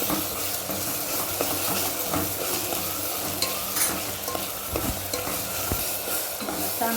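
Turmeric being stirred into frying spices for khichdi, a steady close sizzle with scraping stir strokes and occasional clinks of a spoon against the pan throughout.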